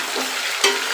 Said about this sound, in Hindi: इसको फ्राई कर लेंगे